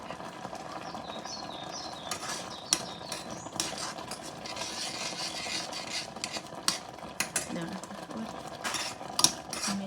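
A spoon scrapes and clinks against a pot while stirring homemade blueberry jam in a home kitchen in Luleå, Sweden, giving irregular close metallic taps over a faint background hum.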